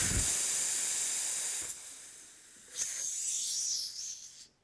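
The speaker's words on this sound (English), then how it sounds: "the Ralston Quick Test connection will safely self-vent instead of blowing off." A Ralston Quick Test tube fitting self-venting its pressure gives a loud, steady hiss of escaping air that eases off briefly, surges again and then cuts off abruptly.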